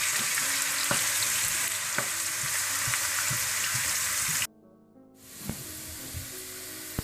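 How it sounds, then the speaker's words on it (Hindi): Onions fry lightly toward brown, with a continuous close sizzle and occasional stirring clicks. The sound cuts out briefly near the end and then returns more softly. "इसको आप हल्की फ्राई कर लें, हल्की ब्राउन कलर में फ्राई कर लें"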